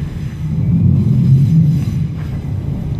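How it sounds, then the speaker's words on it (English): A train rumbles across a bridge directly overhead, a loud, deep and continuous roar with a steady low drone that holds for the whole stretch without letting up. "Sorry, there's a train going over. A bit noisy."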